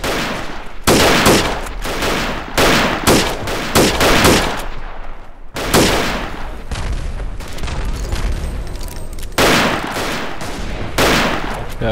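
Verdun battlefield in World War I combat, heavy booming blasts and rattling gunfire arriving in several loud bursts across the stretch, close and dense with brief gaps between.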